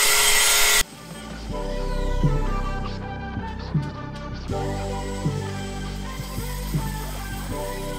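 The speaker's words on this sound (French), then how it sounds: "donc François va me découper ça" Power saw cutting a square cover for faucet fittings during a house renovation, a loud burst at the start, then repeated buzzing tool passes with pauses and knocks, close by.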